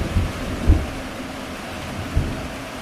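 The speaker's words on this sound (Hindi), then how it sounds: "कुछ ही देर बाद बारिश बहुत तेज होने लगती है" Heavy rain pours steadily in a forest, with low thunder rumbles thudding a few times beneath the constant wash of falling water.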